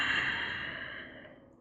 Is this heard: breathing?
yes